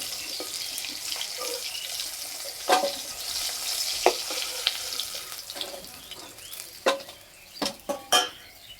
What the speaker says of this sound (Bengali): এই তেলে বড়ি ভেজে নেব।